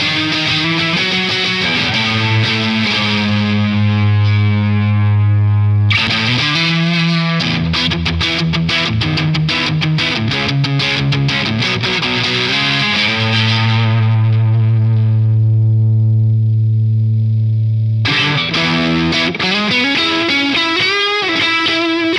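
Stratocaster electric guitar played through a Marshall-style amp with the bass turned up, loud distorted chords and sustained notes with chorus and effects, some choppy strummed passages, no talking.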